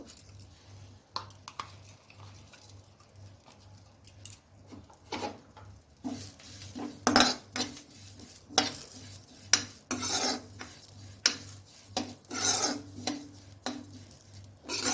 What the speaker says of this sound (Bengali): কড়াইটা গরম করে নিয়েছি এখন আমি তিলটাকে ভেজে নেব